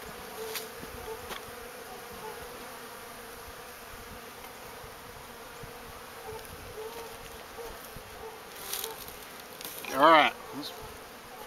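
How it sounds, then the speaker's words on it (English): A hive packed with bees buzzes in a soft, constant drone while being fed sugar, up close, with one brief louder burst near the end and a few spoken words. "I'm going to go ahead and give them a pretty good load since there's so many bees in here."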